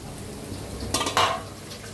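A utensil knocks and scrapes twice against a pan while mashed potato is mixed with masala, two short clinks over a quiet background and no speech.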